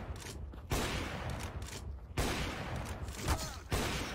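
Loud bursts of gunfire in Counter-Strike: Global Offensive come in several volleys, close and sharp, with continuous game noise between them.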